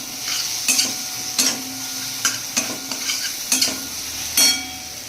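Dried fish stir-fried in a pan, a spatula scraping and clattering in irregular strokes over a steady close sizzle, with no talking.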